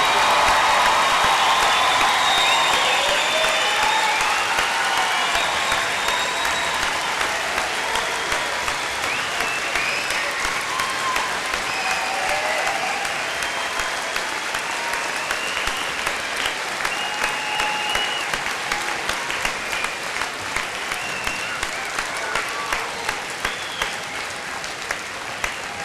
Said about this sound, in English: would you all stand and join me in applauding the accomplishments of the members of the class of